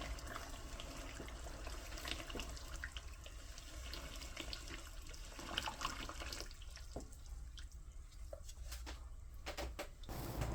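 Hot water runs from a kitchen tap into a Pyrex dish to loosen residue from its bottom, making a steady, soft splashing rush with a few clinks and drips near the end. No one talks.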